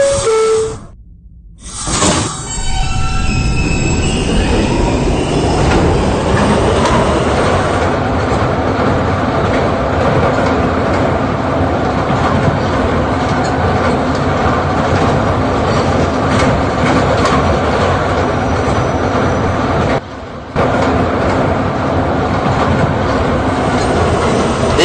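New York subway R160B D train running Catalan-bound, a loud continuous rumble and rail roar after brief door and start-up sounds, with a short dip near the end, no talking.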